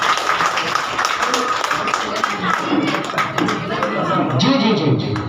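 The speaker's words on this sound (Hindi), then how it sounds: "एक बार गुरु जी के लिए भी जोरदार ताली होनी चाहिए" A crowd at a gathering honoring a guru bursts into loud, sustained clapping that fills the space, with voices mixed in underneath.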